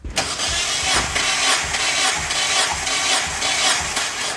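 Mazda Miata NB engine cranking and running with the spark plugs out and a compression gauge fitted, a steady, loud, close mechanical churn with a rhythmic pulsing that lasts the whole stretch, no voices.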